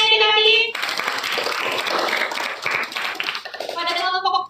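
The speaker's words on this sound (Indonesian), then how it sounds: "Beri tepuk tangannya nanti." Children in a classroom clap their hands together in a dense, close burst of claps, with children's voices heard briefly before and after.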